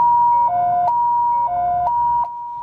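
An ambulance siren wails in a two-tone alternating pattern, loud and close, cycling high and low tones with no voices over it, on a street in Kaohsiung.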